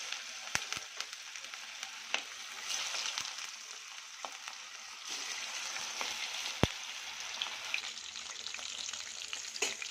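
Chicken kebab pieces fry in hot oil on a stove: a continuous crackling sizzle with scattered sharp pops of spattering oil, steady and close, with no talking.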